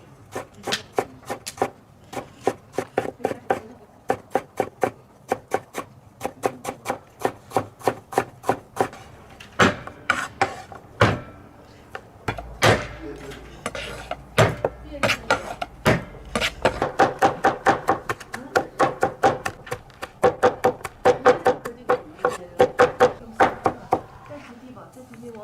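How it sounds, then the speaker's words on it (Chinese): A knife chops ginger and garlic on a cutting board, fast rhythmic strikes in bursts throughout, close and clear, with a short pause in the middle before the steady chopping resumes. "我再去点姜末、蒜末"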